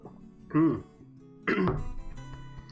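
Two short, close coughs or throat-clearing bursts from a lone streamer indoors, the first brief and the second longer and rougher, with quiet room tone between them.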